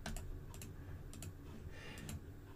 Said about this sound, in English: So if we typed 0 to 100 here